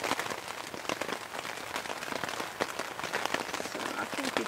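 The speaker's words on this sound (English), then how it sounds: "It was just a pretty thin line of storms with rain following." Steady, dense patter of rain drumming on a thin tent close by, continuous and even throughout, during storms on a ridge in the Adirondacks.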